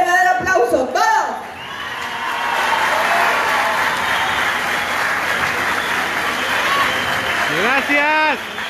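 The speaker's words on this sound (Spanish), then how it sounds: "Un verdadero aplauso," A crowd at a political rally for AMLO in Tampico claps, cheers and whoops in a sustained roar, with someone speaking over the start and end of it.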